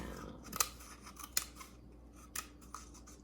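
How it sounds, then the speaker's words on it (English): Scissors snip around a paper shape, a few separate crisp cuts spaced irregularly, close and fairly quiet, with no talking. "snip, snip, snip, snip, snip, snip, and keep snipping all the way around."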